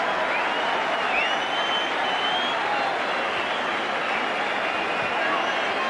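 A Wigan rugby league crowd at Central Park roars and applauds after a try in a Challenge Cup match against St Helens, a dense, sustained cheer filling the stand with distant whistling under it.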